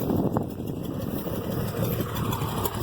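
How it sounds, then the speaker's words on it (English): An IH Farmall 706 tractor engine idles steadily as it warms up on a cold day, a continuous loud, close rumble with no change in pace. "Letting the tractor warm up, just like I said, because it is a little colder out."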